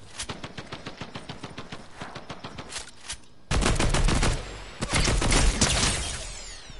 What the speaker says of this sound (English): Oh, somebody shoots me now.